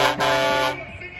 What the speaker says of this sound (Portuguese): Esse é o buzinaço do povo.